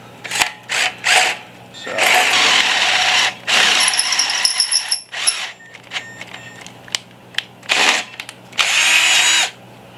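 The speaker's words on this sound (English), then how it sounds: "if you're doing a lot of sheet metal work or drilling holes in sheet metal" A power drill whirs in repeated bursts, stopping and starting, with a high whine as it cuts holes in sheet metal close by.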